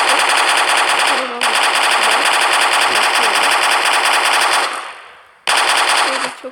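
A Bizon submachine gun fires in long, rapid, continuous bursts in a modded video game. The shots are loud and close, with a brief pause before a final burst.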